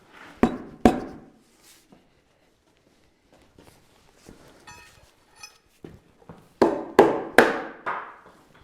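Sharp hammer blows ring out: two hits early, scattered faint clinks through a quiet stretch, then a quick run of three strikes.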